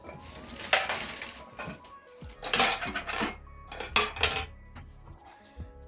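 A tablespoon clinks and scrapes against jars and dishes while salt and sugar are added, several sharp metallic taps and rattles in irregular bursts, close and clear with no talk.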